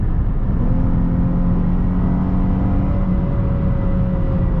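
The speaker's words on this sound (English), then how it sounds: "Now you hear how it kind of lags a little bit at those upper RPMs because of the sport mode" A 2021 Chrysler 300S V6 pulling hard in sport mode at highway speed, heard from the cabin as a steady engine drone with rising whine and road rumble, continuous and fairly loud.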